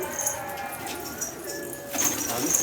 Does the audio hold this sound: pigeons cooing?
yes